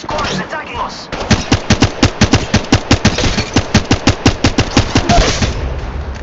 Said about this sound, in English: another squad is attacking us.